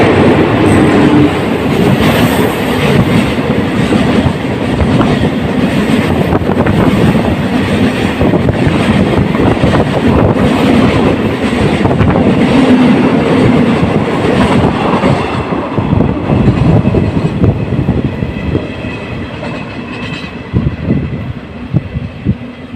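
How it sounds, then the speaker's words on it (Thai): A train rumbles past close by at Huai Thalaeng station, Nakhon Ratchasima, Thailand, loud and continuous, with rhythmic clickety-clack of wheels on rails fading slightly at the end. "เสียงรถไฟวูนวูนมาแล้วนะครับ"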